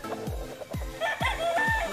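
A young gamecock (stag) crows nearby, with several short squawky calls in quick succession over faint background noise.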